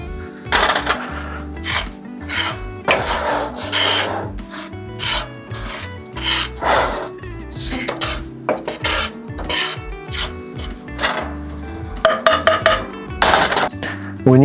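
A hot pan holding powder for homemade Japanese ramen is shaken back and forth, giving a run of loud, rhythmic gritty scrapes and rasps with brief pauses between strokes.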